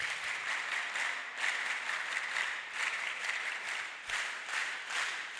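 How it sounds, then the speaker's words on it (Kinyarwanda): Enthusiastic congregation applause in a church, a dense burst of many hands clapping with rhythmic swells throughout, moderately close and without talk. "Imana muyimpera amashyi ya special n'impundu nyinshi cyane."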